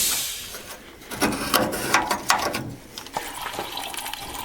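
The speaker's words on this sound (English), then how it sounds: "while that fluid's draining" Fluid drains from a 1968 Ford F250 pickup into a 5-gallon bucket, a close, uneven splashing and trickling stream with a few clinks.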